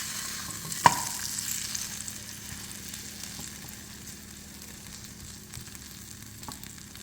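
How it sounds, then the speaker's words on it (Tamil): Sweet potato cooks in a pan over a medium flame with a low, steady sizzle and one sharp clink near the start, heard close and quiet with no talking. "இது நல்லா வந்து மிதமான தீயில வேகட்டும்."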